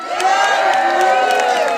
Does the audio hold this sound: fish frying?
no